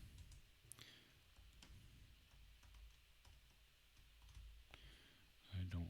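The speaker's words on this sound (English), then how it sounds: "I don't like typing all this garbage out." Quiet typing on a computer keyboard, a light, irregular patter of small key clicks, close and faint, ending with a louder bump.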